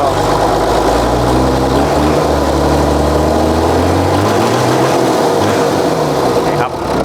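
A heavy Hino HO7D 195-horsepower truck diesel engine drones loudly and steadily, its pitch sliding up and down as it revs, with a voice speaking over it.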